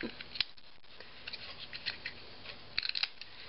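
Scissors snip quietly at material in a few small, irregular cuts against soft background hiss.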